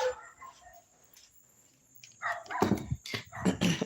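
A dog barks in short, loud bursts near the end after a quieter stretch, fairly close and with no one talking.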